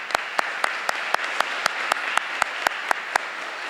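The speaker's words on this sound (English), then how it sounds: "we'll give them a big round of applause for their dedication" Applause for middle school teachers and staff at an eighth grade recognition ceremony, a steady crowd clapping with a few sharp, regular, louder claps standing out nearby.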